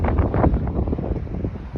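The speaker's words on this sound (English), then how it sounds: "It's a bit windy" Wind buffets the microphone in the Yosemite mountains during a snowy backpacking trip, a loud, gusty low rumble that rises and falls without a break.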